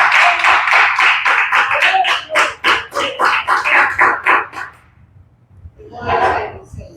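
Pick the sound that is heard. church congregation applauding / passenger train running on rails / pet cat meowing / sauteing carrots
church congregation applauding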